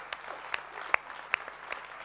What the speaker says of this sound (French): est-ce qu'on peut les applaudir bien fort, s'il vous plaît